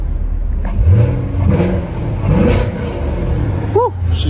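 A 2023 Chevrolet Camaro SS engine set in track mode runs with a loud, continuous low rumble and swelling revs, heard close with faint background sounds.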